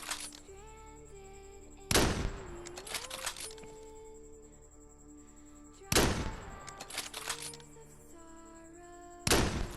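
Gunfire in Scarfall 2.0 on the Mumbai map comes as three loud, sharp bursts spaced a few seconds apart, each rattling briefly over a quiet in-game backdrop of humming tones.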